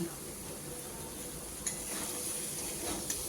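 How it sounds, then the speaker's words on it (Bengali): Fried potatoes are tipped into chickpeas cooking in a pan, giving a low steady sizzle with a few sharp clinks and scrapes of a utensil, close up and fairly quiet with no one talking. "এবারে ভেজে রাখা আলুগুলো দিয়ে দিচ্ছি"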